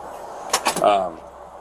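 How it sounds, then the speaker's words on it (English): A door is shut nearby with a couple of quick knocking thuds followed by a brief rattle, set against a faint background hum. "I want you to close the door."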